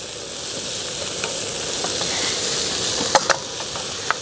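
Onions frying in a hot pan for a breakfast dish, a steady close sizzle with a few sharp crackles and pops toward the end, no talking.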